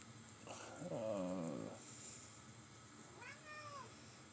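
A cat meows twice indoors, a longer wavering meow followed a couple of seconds later by a shorter rising one, fairly quiet over a low steady room hum.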